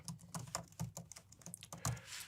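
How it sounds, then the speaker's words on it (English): Email address being typed on a computer keyboard: a steady run of light, quick key clicks, close and fairly quiet, with no talking. "Now I'm going to type in my email address"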